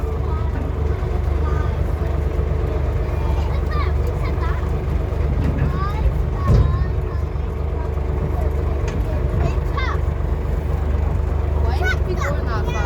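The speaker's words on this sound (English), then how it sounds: "Because our tractors only go this speed." A farm tractor drives along at its slow working speed, its steady low engine rumble continuous and close throughout, with people talking over it.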